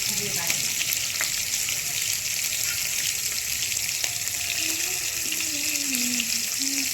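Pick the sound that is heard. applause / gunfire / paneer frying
paneer frying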